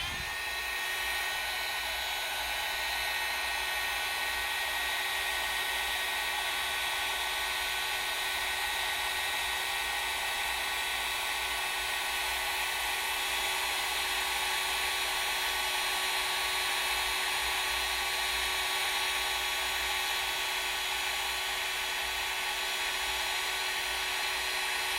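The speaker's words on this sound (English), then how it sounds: "Alright, so now I'm going to heat up this embossing powder." A heat gun melts embossing powder, giving a steady, loud, unbroken hiss-whine with a faint tonal hum that runs without pause from start to finish, with no voices.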